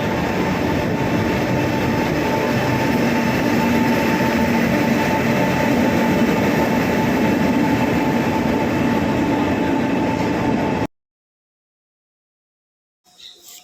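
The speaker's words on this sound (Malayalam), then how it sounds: "ഇപ്പോൾ ട്രെയിൻ വന്നുകൊണ്ടിരിക്കുകയാണ്" A train arriving at a station rumbles loudly and steadily with a low mechanical roar and a faint whine, then cuts off abruptly into near silence with a brief faint sound at the end.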